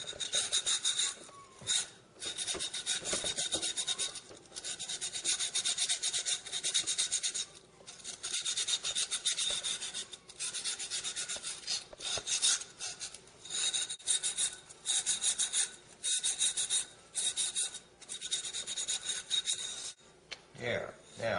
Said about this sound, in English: take a little cloth, a silicon carbide cloth, and just go along the edge of it